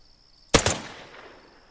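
A single burst of gunfire from the zombie video game OutlawZ, a loud sharp report with a quick second crack and a short fading tail, heard alone over a faint high tone.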